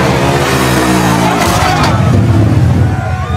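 Stunt motorcycles rev loudly in front of a large crowd during a movie scene, the engines rising and falling in pitch. A crowd murmur sits underneath, and the roar stays close and strong throughout.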